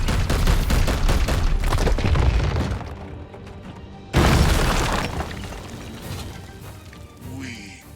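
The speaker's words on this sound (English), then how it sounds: "Firing now!" Heavy weapons fire and booming impacts in Warhammer 40K Chaosgate Daemonhunters, a dense loud barrage of shots and blasts, a brief lull, then another forceful boom that decays into rumbling debris.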